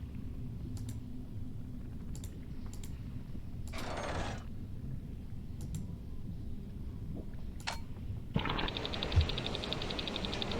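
Elevator machinery in the puzzle game Rhem 2 clicks and ticks quietly, with a short airy whoosh partway through, then breaks into a louder, sustained mechanical rush near the end.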